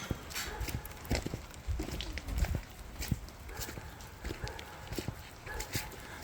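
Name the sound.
horse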